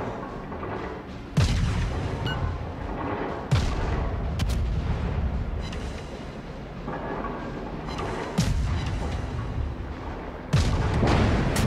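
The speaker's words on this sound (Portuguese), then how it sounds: "Eu só, só soltando os tiros assim em doses homeopáticas" Cruiser Omaha's naval guns firing in World of Warships, several sharp booming salvos spaced a few seconds apart, each loud blast followed by a rumbling tail over continuous battle ambience.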